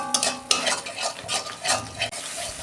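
Spices with a little sugar and Kashmiri chilli being stirred and sautéed in a pan for a home-style kakrol curry, a steady close sizzle with scraping stirs and a light clink of utensil on the pan.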